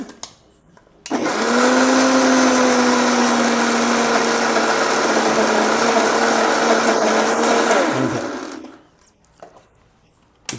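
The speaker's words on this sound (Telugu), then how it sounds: "మిక్సీ పట్టేసుకొని" A kitchen mixer grinder blends coriander chutney in a loud, steady whir lasting about seven seconds, starting abruptly and winding down, with quiet before and after.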